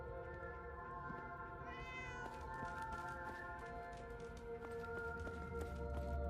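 A cat meows in a Fallout 4 game over steady background music and ambience, its voice rising in a few short calls near the middle.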